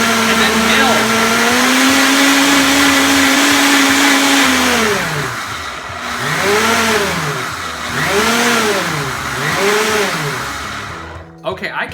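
A Breville Boss blender runs loudly up close, first at a steady high whine, then pulsing in repeated rising-and-falling bursts as speeds change, before cutting off abruptly.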